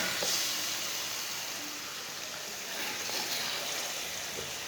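Raw chicken and potatoes dropped into hot masala for aloo chicken, giving a continuous hissing sizzle that swells at the start and holds steady, close and even with no voices.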